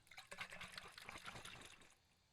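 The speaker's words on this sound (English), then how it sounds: "If I clasp it like this and then shake it, you should be able to hear water." Water sloshing as it is shaken inside a hand-clasped container, a short close swishing burst that fades out after about two seconds.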